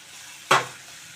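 A single quick scrape and stir of a pan of drumstick and tomato curry after four large ripe tomatoes go in, a short bright swish that fades into a faint low hum.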